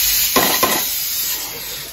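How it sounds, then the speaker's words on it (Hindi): Onion fritters and tempered spices frying in an Indian home kitchen pan, giving a steady loud hiss with two brief metallic stirring clinks near the start. "जब तक पानी नहीं जल जाएगा तब तक इसको हम फ्राई करते रहेंगे।"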